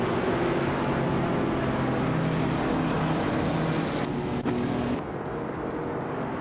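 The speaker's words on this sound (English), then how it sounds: "Maya's taking the lead in her classic 1973 Alpine A110 1600 6i, right at the front of the pack" A 1973 Alpine A110 1600 racing at Autosport Speedway in a racing video game drones with a loud, continuous engine roar, steady throughout with slight tonal shifts and a small dip near the end.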